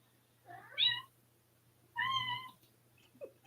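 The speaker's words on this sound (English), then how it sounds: "I love the cat meowing." A cat gives two clear, fairly close meows about a second apart, followed by a short faint chirp, over a low steady hum in a quiet room.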